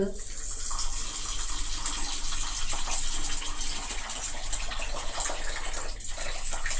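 Water pours steadily into a bowl of washed chana dal to soak it, a continuous close, full rush of splashing liquid lasting throughout.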